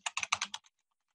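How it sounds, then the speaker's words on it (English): A message is tapped out on a keyboard in a short burst of five or six crisp, close key clicks, then silence. "And I can type in my message."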